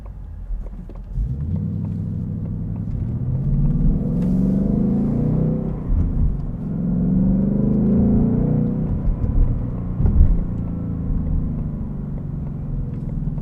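A 2020 Ford Mustang GT convertible Performance Pack with a six-speed manual, its engine rumbling and swelling in two long, loud revs while driving, steady road drone underneath.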